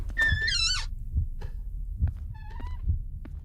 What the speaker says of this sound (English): Starting to hear that heartbeat again.